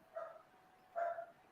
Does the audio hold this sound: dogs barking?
yes